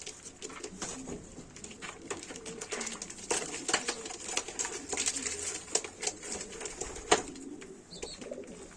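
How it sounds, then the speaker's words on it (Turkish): Black-wing Nürnberg pigeons coo repeatedly in a close, busy chorus, soft rolling calls overlapping with scattered clicks and rustles of birds moving about. "Nürnberg'in şu anda en tutulanlarından siyah kanat Nürnberg geçiyor bunlar"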